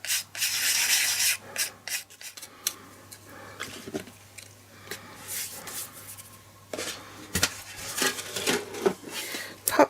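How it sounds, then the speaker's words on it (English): A soft brush sweeps excess gilding flakes off a card, making a quiet run of scratchy rubbing strokes in short irregular bursts with pauses between them, close and with no talking. "Take off some of the excess with my fingers and then use a brush to brush off"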